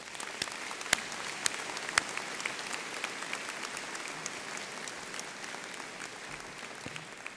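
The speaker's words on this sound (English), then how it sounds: "Please give our staff a round of applause." A commencement audience applauds university staff, a dense, steady wash of many hands clapping throughout, with a few sharper, louder claps standing out near the start.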